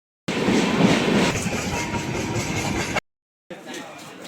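A passenger train on the Howrah–Purulia line runs near Bishnupur station, a loud, close rumble with rhythmic clatter of wheels over rail joints, cut off abruptly and then resuming briefly.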